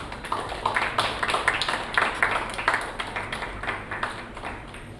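Party guests clap at an engagement celebration, a brisk run of sharp handclaps, fairly close and moderately loud, rising and settling over a few seconds.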